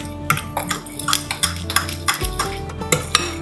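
A spoon or whisk scrapes and clinks against a bowl as melted butter is mixed into batter, giving soft, irregular taps and stirring sounds close up with no talking.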